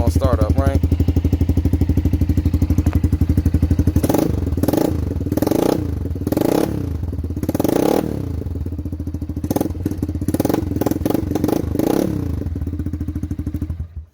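A Lifan KP Mini 150 motorcycle engine, 165FMM OHC, starts cold with a quick sputter, then idles steadily and is revved several times in sharp bursts, loud and close.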